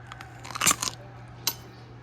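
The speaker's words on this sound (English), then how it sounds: "Did you hear that crunch?" Crisp, close crunch of teeth biting into a lacto-fermented cucumber pickle: one sharp bite followed by a second shorter crack, no talking.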